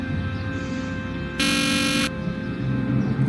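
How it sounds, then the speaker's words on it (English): A harsh electronic buzzer sounds once for under a second at the Hill Valley Courthouse in the Back to the Future video game, loud and steady over a low game ambience. "Or the buzzer."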